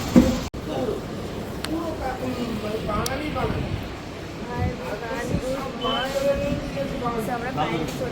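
A passenger train travelling to Puri rumbles and rattles steadily throughout, heard from inside the carriage, with people talking over it.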